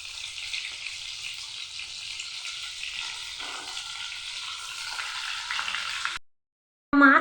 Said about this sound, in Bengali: প্রথমে আমি নুন হলুদ দিয়ে বেছে রেখে রুই মাছকে ভেজে নিচ্ছি।